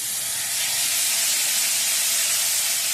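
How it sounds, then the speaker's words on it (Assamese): Hot water poured into a pan of frying prawn curry, producing a loud, sustained hiss of steam and sizzling that swells slightly and holds steady, close and alone. "এতিয়া মই ইয়াত একাপমান গৰম পানী দি দিম"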